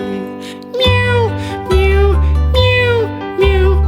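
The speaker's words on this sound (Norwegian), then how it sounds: "Tre katter små, så triste så de mjauet lavt i kor." Kittens meow in a Norwegian children's song, several long, tuneful sung meows in a steady rhythm over bouncy music, loud and close.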